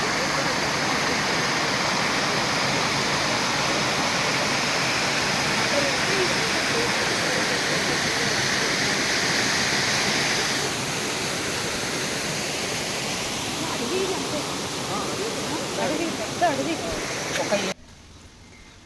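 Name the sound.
Benki waterfall rushing in the forest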